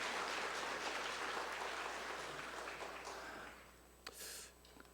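Applause from a church congregation during an Easter Sunday service, a broad crackling wash that fades out over several seconds, followed by a brief sharp sound near the end.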